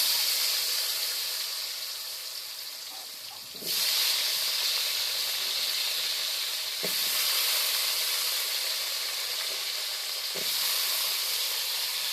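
Cut potato pieces go into a pan of frying rita fish, and a steady loud sizzle fills the clip, surging with fresh bursts of hissing as more pieces are added.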